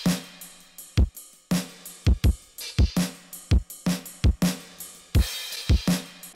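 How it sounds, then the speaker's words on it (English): Programmed shoegaze-style drum mix drenched in reverb, with punchy kicks and washy snare and cymbal hits in a steady, busy groove, loud and alone with no voices. "But altogether, the drums sound like this."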